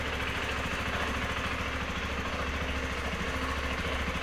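A 2021 Zontes 300 motorcycle engine idles steadily, a close, even mid-range hum with a fine regular pulse that holds unchanged throughout with no voices.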